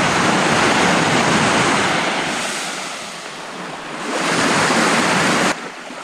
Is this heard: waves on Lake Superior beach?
yes